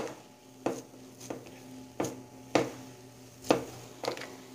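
Peanut modak batter stirred continuously in a pan over a low gas flame, giving a regular series of soft knocks and scrapes roughly every half second over a faint background hiss.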